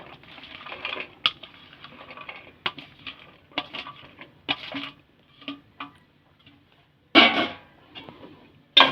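Mango pieces stirred into a cooled spice paste for mango pickle, a spoon scraping and clicking against the vessel in short irregular bursts, with a louder clatter near the end.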